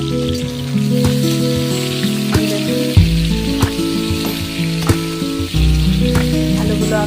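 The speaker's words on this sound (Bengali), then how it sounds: "আলুগুলো আমি কষানো চাপিয়ে দিয়েছি, ভাজা ভাজা হয়ে যাচ্ছে" Potatoes sizzle and fry steadily in a pan, a dense crackling hiss running throughout with a low tonal hum underneath and a few brief clatters; no one speaks.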